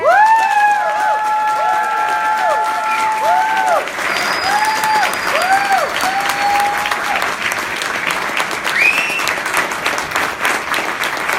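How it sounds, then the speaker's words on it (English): An audience at a political event applauds loudly and continuously, a dense clatter of hands with some cheering and whistles mixed in, lasting the full stretch without easing. "Please give a round of applause for Mr. Lawrence Ham."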